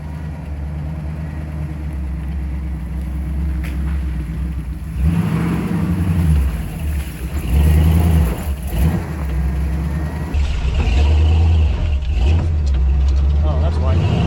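Old Jeep crawling up a rocky trail hard enough to challenge a dirt bike, with the engine droning low and rising in surges of revving amid clatter and people talking.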